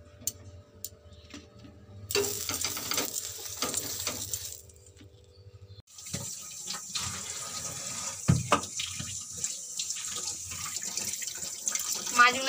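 Bata fish are washed under a running kitchen tap, with splashing water that comes in bursts, pauses, then resumes more steadily, along with occasional clinks and knocks nearby.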